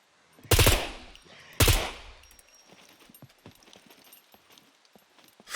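Gunfire in the survival video game SCUM: two loud, close bursts early on, each fading into a tail, then faint scattered clicks and rustles.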